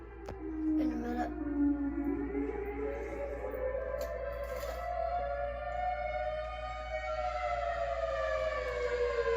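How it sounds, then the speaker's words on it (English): A Kuwait emergency alert siren wails loudly and continuously, a rising and falling tone with layered harmonics and a steady low hum underneath, carrying on without a break. "What the heck is just Siren Head, but with the Kuwait EAS alarm?"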